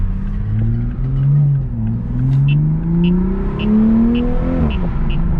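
From inside a 2021 Toyota Supra running a JB4 tune, the engine drones and rises through a couple of gear changes, loud and steady, with faint rhythmic clinks in the background and no speech.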